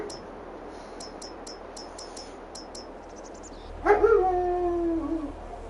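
A dog in Farming Simulator 22 gives a sudden loud, drawn-out howling yelp with whining tones, heard near and alone after a stretch of quiet ambient game sound with faint repeated high chirps.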